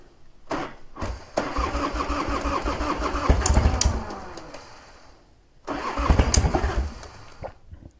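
A motorcycle engine cranks and fires up after sitting unstarted for a few months following belt and pulley replacement, settling into a rough idle, cutting out, then restarting close by with no talking.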